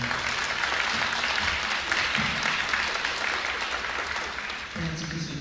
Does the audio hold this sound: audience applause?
yes